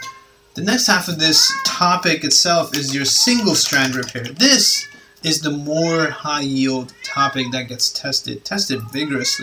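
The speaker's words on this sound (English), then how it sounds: "excuse my cat, she's having a little bit of a moment" Cat meowing repeatedly indoors, several drawn-out meows mixed in with and under a person lecturing nearby.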